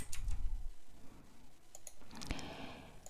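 A single crisp mouse click on the Add button in After Effects sounds once, short and faint, over quiet room noise, with no talk.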